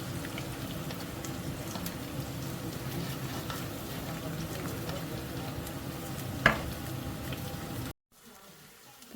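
Peanuts and onions fry in a pan with a steady, moderate sizzle that holds evenly for several seconds, marked by one brief clink partway through, before the sound drops away near the end.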